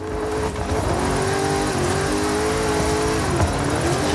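A car engine drones steadily in a driving video game as the car drifts, its pitch wavering and climbing slightly across the slide, loud and continuous with no talking.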